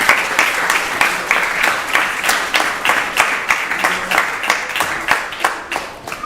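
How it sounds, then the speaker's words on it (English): Audience applause at a Narasimha appearance celebration and yagya in Phoenix, Arizona: steady, fairly close clapping from a crowd sustained throughout, with rhythmic bursts and no speech over it. "Please give her a big round of applause."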